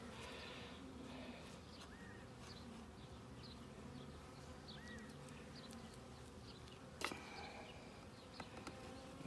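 Honeybees from a six-week-old package hive droning around an open beehive during an inspection, a dense continuous buzz with individual bees zipping close past, plus a few clicks and knocks.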